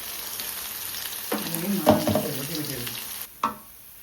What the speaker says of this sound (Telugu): వేసి చక్కగా ఆయిల్ పైకి తేలేదాకా వేయించాం